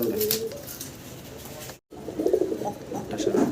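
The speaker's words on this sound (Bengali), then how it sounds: "সম্মানীয় দর্শক আমরা দুই পিস কবুতর দেখাচ্ছি আপনাদেরকে" Pigeons offered for sale, a Gia Chulli and a Rajgolla, coo repeatedly nearby, soft rolling coos over a low background hum, broken by a brief cut to silence midway.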